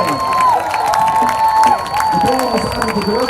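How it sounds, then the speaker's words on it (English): Crowd applause and cheering for a high school marching band, the Range High School Wildcat Marching Band, with whoops and shouts over steady clapping from a large audience throughout. "a big round of applause for the pride of Range High School, your Wildcat Marching Band"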